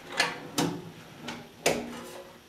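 The drawer of a metal welding cabinet cart slides and knocks, giving four sharp clacks spaced unevenly, close and clear with no talking.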